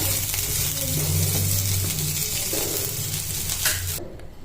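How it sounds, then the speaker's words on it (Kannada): Ridge gourd vegetables sizzle steadily in hot oil over a low flame, a loud close frying hiss with occasional stirring, cutting off abruptly at the end. "ಸ್ವಲ್ಪ ಎಣ್ಣೆ ಹಾಕಿ ಕಡಿಮೆ ಫ್ಲೇಮಲ್ಲಿಕ್ಕಿ ಇದನ್ನು ಬೇಯಿಸ್ಕೋಬೇಕು"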